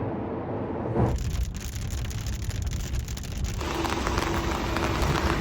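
Rain falls on a car driving toward Ludensia in Yeoju, South Korea. The steady hiss and patter is close and constant, with the tone shifting partway through and no talk.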